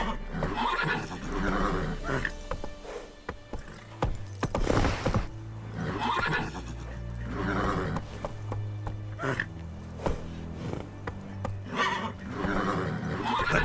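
Horse Roach galloping in The Witcher 3, rhythmic hoofbeats with neighs under game music and ambience, steady and mid-distance.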